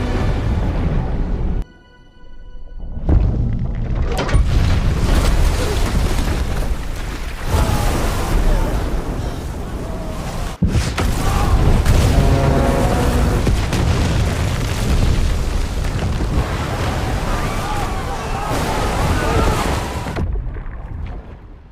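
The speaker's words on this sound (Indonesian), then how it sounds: "peluru mereka malah mengenai peledak-peledak di bawah sungai yang mengakibatkan peledak itu aktif dan menjadi sebuah ledakan yang besar" A big underwater blast from explosives beneath a river in a film, a deep booming roar that swells after a brief hush and rumbles on with surging water, with a voice narrating over it.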